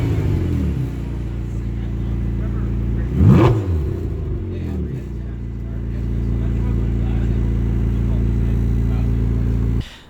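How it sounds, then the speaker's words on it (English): A 2019 McLaren GT's exhaust rumbles loudly close by with a steady idle, one sharp rev blipping up and settling back, then the engine holds a slightly raised drone before cutting off. "the exhaust sounds really good on this thing."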